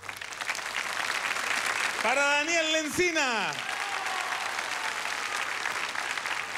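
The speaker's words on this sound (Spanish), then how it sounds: "Fuerte el aplauso para ellos." Studio audience applause on a Saturday variety show, steady clapping that runs throughout beneath a host's voice and a sliding musical flourish in the middle.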